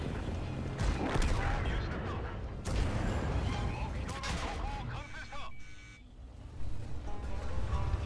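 Bursts of tank cannon fire and explosions from the STB-1 tank in a video game ring out amid engine rumble, with someone talking over the action.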